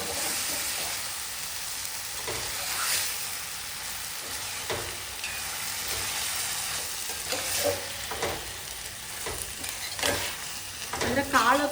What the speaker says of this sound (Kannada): ಕಾಳು ಕೂಡ ಎಣ್ಣೆ ಒಳಗೆ ಸ್ವಲ್ಪ ಫ್ರೈ ಆದರೆ ಟೇಸ್ಟ್ನು ಚೆನ್ನಾಗಿ ಬರ್ತದೆ.